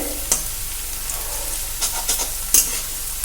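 Onions fry in a pan with a loud, close, continuous sizzle, broken by a few sharp scraping stirs; nobody speaks.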